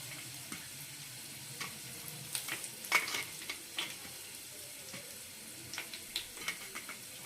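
Red chilli, garlic, cumin, mustard seeds and curry leaves fry in hot oil as a tempering, a faint, close sizzle peppered with small pops and crackles, with no voices.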